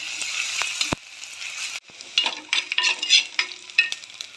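Green chillies and ginger garlic paste fry and sizzle in a pan for mackerel curry, with steady hissing and close stirring scrapes and clinks.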